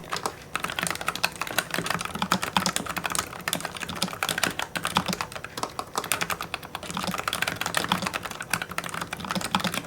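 Quiet, rapid typing on a Logitech G515 Lightspeed TKL slim wireless mechanical keyboard, a dense continuous patter of soft key clicks heard close up for about ten seconds, with no voices present.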